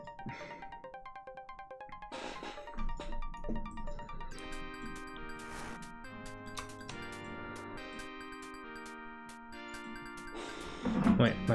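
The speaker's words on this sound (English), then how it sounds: "Wait, my phone wants something." A phone chimes a melodic notification tone, a run of bright bell-like notes with a tinkling jingle, fairly faint and heard alone.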